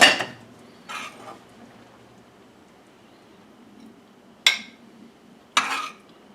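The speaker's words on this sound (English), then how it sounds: "Let me get a spoon out of here for the forbidden rice" Metal spoon clinking against a cooking pot while scooping forbidden black rice in a home kitchen, a few sharp separate clanks with quiet gaps between, close and fairly loud.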